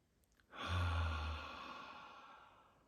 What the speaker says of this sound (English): taking conscious, deep breaths.